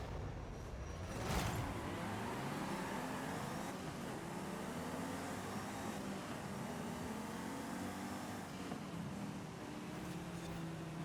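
A car in the Forza Horizon 5 racing game, on a wintry course, drives with a steady engine drone and road rumble; a brief louder whoosh comes near the start, then the sound holds at a moderate, even level with no talking.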